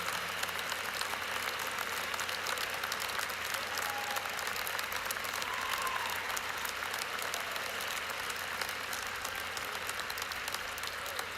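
An audience at a Temple Law School commencement claps after a speech, a steady, sustained sheet of applause from a large crowd that holds at an even level throughout with no pauses.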